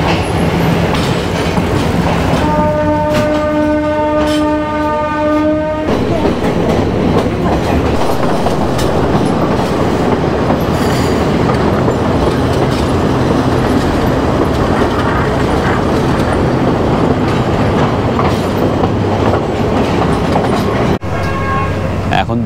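A train runs on the Nanu Oya to Ella line in Sri Lanka in heavy rain: loud, continuous rumbling and clattering of wheels, with a sustained horn blast early on and steady mechanical noise throughout.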